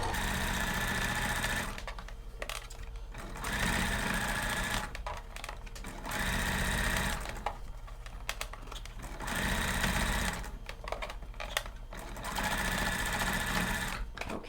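A sewing machine stitches bias binding onto a collar in several bursts of steady running, separated by short pauses for adjusting the fabric, close and clear with no talk.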